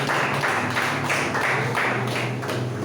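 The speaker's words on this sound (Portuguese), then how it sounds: "aplauda o Senhor bem forte, aleluia" A church congregation claps loudly in praise during a deliverance service, a dense, continuous wash of hand claps that swells and ebbs in regular waves, with no voice standing out.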